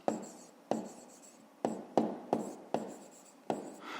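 A pen or chalk writes out a math answer, a series of about seven sharp taps and short scratching strokes at an uneven pace, close and fairly quiet.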